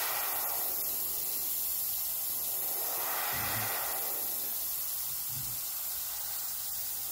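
An airbrush spraying paint onto paper, a continuous soft, close hiss that swells slightly in two short bursts.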